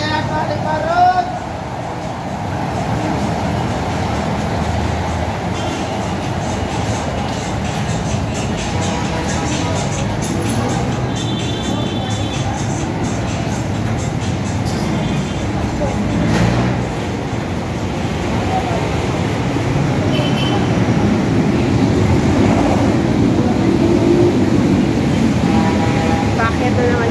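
A ride aboard an LRT light rail train, with a steady low rumble and rail noise running the whole way, voices chatting faintly over the hum.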